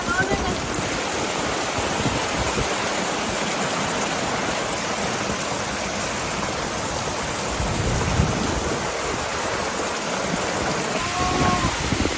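A cyclone storm roars with dense, heavy rain and rushing wind-driven water, loud and continuous, with a possible low rumble of thunder underneath.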